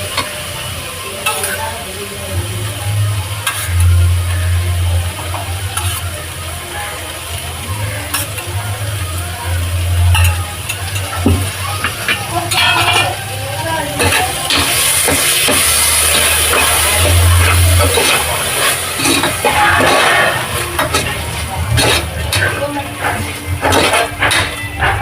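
Curd is stirred into a sizzling tomato rice mixture in a pan, with continuous frying hiss and repeated spoon scrapes and clinks, louder bursts of stirring toward the end and a low rumbling hum underneath.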